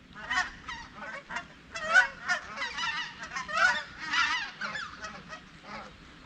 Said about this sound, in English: a bunch of geese.